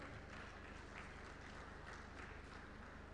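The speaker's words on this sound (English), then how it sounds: "May I request all the men in the audience to clap for the women." Dense applause from a large audience at a FICCI Ladies Organization event for International Women's Day, a continuous wash of clapping that stays loud and even throughout.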